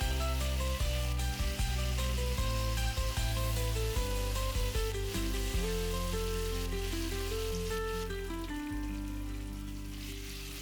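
Onions and chopped tomatoes fry in oil in a pan for a Bengali fish curry, a dense, continuous sizzle that stays loud and close for the whole stretch, with faint clinks and no voices.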